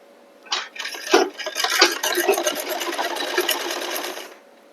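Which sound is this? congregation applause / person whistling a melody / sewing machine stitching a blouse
sewing machine stitching a blouse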